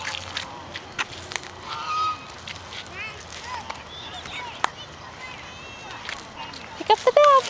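Geese honk repeatedly in the open air near ducks being fed, with short calls scattered throughout and a louder burst near the end, over steady outdoor background noise.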